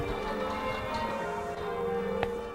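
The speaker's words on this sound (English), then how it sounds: "I'll leave you to the beautiful sound of the VDAS bell ringers" Church bells rung by bell ringers, a continuous wash of overlapping ringing tones, steady and sustained, with one brighter strike standing out near the end, a little distant and slightly muffled.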